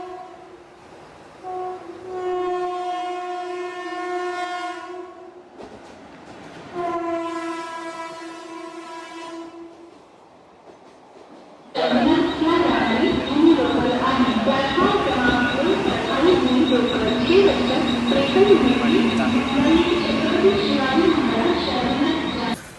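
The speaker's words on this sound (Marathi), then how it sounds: "फायनली आम्हाला लोकल भेटली ती पण फास्ट भेटले" Mumbai fast local train: two long, loud horn blasts, then the train rushes past close by with a steady roar and rattle of wheels on track for about ten seconds.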